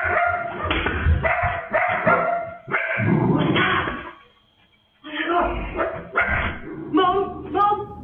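A household dog barks repeatedly in quick, loud bursts close by, with yips and a short pause before the barking resumes.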